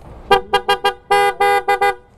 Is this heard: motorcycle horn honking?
yes